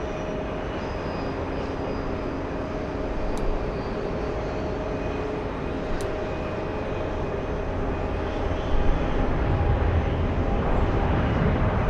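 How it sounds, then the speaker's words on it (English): A British Airways Boeing 777 bound for Heathrow rolls down the runway for takeoff at Los Angeles International Airport. A broad, sustained engine roar holds steady for about twelve seconds and grows slightly louder near the end. "We have the British 777 on the roll."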